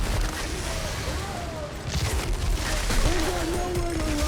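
Sustained game gunfire from a heavy firefight in Outriders, a dense barrage of shots and booms, fairly loud throughout with a voice speaking over it.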